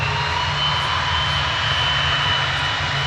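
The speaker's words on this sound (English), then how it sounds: "here it's engine starting now, going full throttle. Ready for this takeoff." Jet airliner engine spooling up to full throttle for takeoff at Manchester Airport, a loud, continuous roaring whine with a steady high tone, close by and heard alone.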